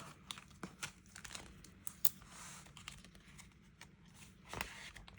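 Cash is tucked into a paper envelope with soft crinkling and rustling of paper and bills. Faint, close handling noises come in irregular bursts, with a slightly louder crinkle near the end.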